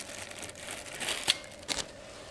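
The plastic packaging bag of a new ACE Clipper professional dry-cleaning stapler crinkles up close. There is a soft, steady rustle with two sharper crackles, and no one talks over it.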